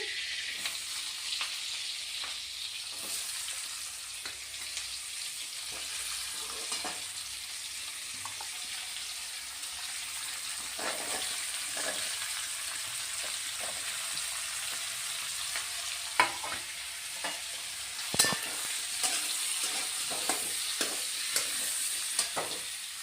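Ridge gourd frying with prawns in a pan gives a steady, close sizzle with scattered scrapes and clicks of stirring, and a few sharper taps later on, with no talk.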